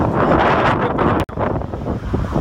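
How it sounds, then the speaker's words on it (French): Loud gusty wind buffeting a microphone outdoors, a dense low roar that holds steady for over two seconds with a sudden brief dropout midway before resuming. "Donc il y a du vent."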